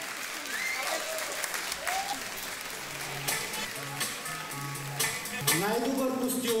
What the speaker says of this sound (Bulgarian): Вашите силни аплодисменти за най-добър костюм в категорията Тим за Бразилия!